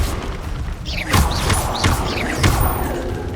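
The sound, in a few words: Incendio fire spell cast in Hogwarts Legacy video game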